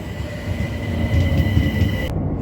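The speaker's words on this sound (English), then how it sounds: "just before the train comes" A London tube train, a Bakerloo line service, pulls into Kilburn High Road station with a steady low rumble and a thin electric whine that cuts off sharply near the end.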